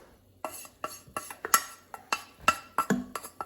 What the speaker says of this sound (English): So now I'm gonna put it back in the pot like so.